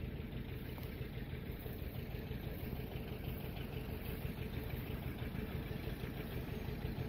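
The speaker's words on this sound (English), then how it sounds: "He's using his John Deere number 37 sickle bar mower, and he's just going through and laying it down." A John Deere 720 tractor pulling a #37 sickle bar mower through oats makes a steady, low, continuous engine drone with faint rhythmic mechanical chatter, unbroken throughout.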